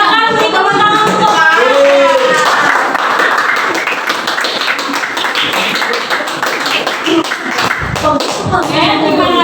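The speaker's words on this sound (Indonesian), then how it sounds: "silakan beri tepuk tangan untuk" Classroom applause at a mathematics teaching session in a school, a dense burst of clapping from students filling the room, steady and fairly loud with voices chattering underneath throughout.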